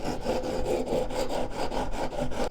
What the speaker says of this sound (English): I'm just going lightly back and forth, letting the sandpaper do the work